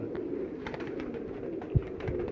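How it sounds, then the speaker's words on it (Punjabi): Domestic fancy pigeons kept by a breeder coo in a low, steady murmur close by, with faint background noise and a soft knock partway through. "ਇਹ ਰਾਣਾ ਸਾਹਿਬ ਕਿਹੜਾ ਕਬੂਤਰ ਹੈ ਜੀ?"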